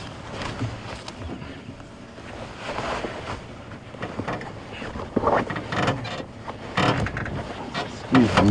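A safari vehicle's chassis groans and creaks under a heavy load, a low rumbling, rattling drone with uneven swells and a few louder knocks near the end, close and fairly loud with no speech.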